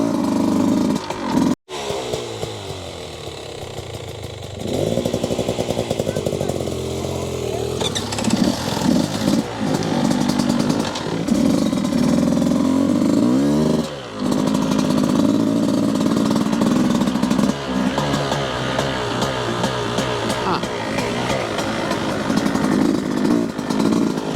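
A motorcycle engine revs and idles on a trail ride, loud and close throughout, rising and falling in pitch as the throttle opens and eases off, with brief gaps and no talking.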